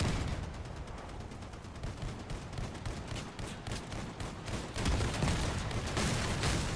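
Rapid, relentless gunfire from vehicle-mounted weapons in the Crossout combat game, dense overlapping bursts that swell louder toward the end, with no talking.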